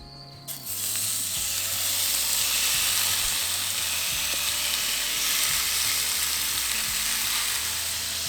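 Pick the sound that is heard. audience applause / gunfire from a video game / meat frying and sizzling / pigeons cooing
meat frying and sizzling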